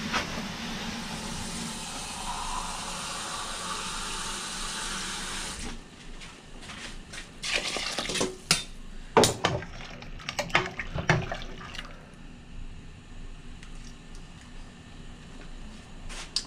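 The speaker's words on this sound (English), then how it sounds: "now we're gonna add more water" Water gushes steadily into a pot of sausage soup for several seconds, then stops, followed by scattered clinks and knocks of cookware nearby.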